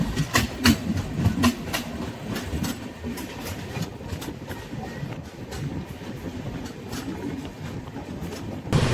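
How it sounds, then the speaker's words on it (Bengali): The Howrah–Mumbai CSMT express pulls away from Dhamangaon station in a loud, steady rumble, with rhythmic clicking of wheels over rail joints throughout and no voices. "আর এই দেখছি প্ল্যাটফর্ম থেকে দেখছি ট্রেন ছেড়েও দিচ্ছে ধামানগাঁও থেকে।"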